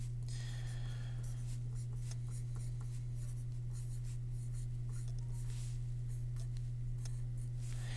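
Pen or pencil scratching across paper while an equilibrium expression for acetic acid is written out by hand, a soft continuous scribble with small strokes and taps over a steady low electrical hum.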